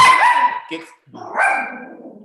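A household dog barks at home during a seaside art and history commission meeting held remotely: a couple of loud, close barks overlapping with a person's speech, then a short pause before more barking and talk.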